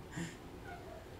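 Cat meowing music, a short melodic meow-like tune playing with a clear rising-then-fading tone, brief and moderately quiet with no one talking over it.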